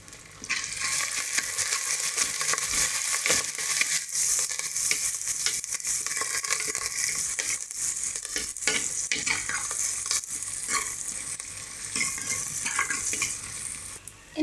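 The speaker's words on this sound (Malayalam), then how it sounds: "ഇഞ്ചി ഇത്രയും ചേർത്തിട്ട് നല്ലതുപോലെ ഒന്ന് ഇളക്കി കൊടുക്കും" Ginger and garlic are stirred in a hot pan for an anchovy curry, a constant loud sizzle with scraping strokes of the spoon, close up and uninterrupted.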